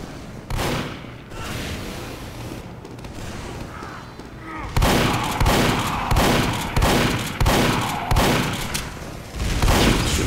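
Gunfire in Team Fortress 2 on Xbox One sounds as loud, dense bursts of rapid shots with heavy booming impacts, sparser at first and then a sustained volley, while a voice speaks faintly beneath.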